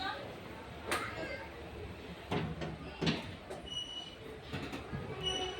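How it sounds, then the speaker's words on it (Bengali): A train starts moving along the rails, with intermittent metallic clanks and squeals over a low rumble, mid-distance and fairly quiet, while voices talk nearby. "রেল চালু হয়ে গেছে বন্ধুরা।"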